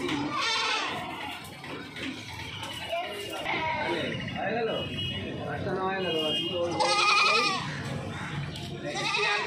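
Goats at a busy livestock market bleat repeatedly, several near and loud with overlapping cries, while people talk nearby throughout.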